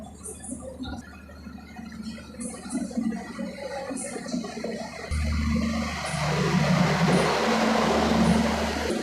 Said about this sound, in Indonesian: itu kereta pembangkitnya di belakang berisik ya